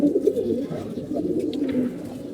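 A pigeon at a home loft coos in low, steady throaty murmurs, close by, with faint background noise and no speech.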